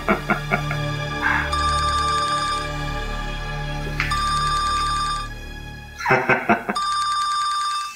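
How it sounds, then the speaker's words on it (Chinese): A telephone ringtone trills in three separate electronic bursts, loud and close, with short pauses between rings and a low background hum, in a scene from a Taiwanese TV drama. "连尤静蝶拢卡电话来啊"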